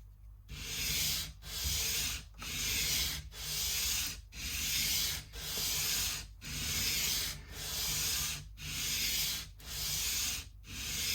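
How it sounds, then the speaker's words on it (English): Nut files cut down the slots of a guitar nut on a PRS SE electric guitar, a close, raspy back-and-forth filing in about eleven even strokes, roughly one per second, with no talking. "it just means we have to cut further down with the files, nut files"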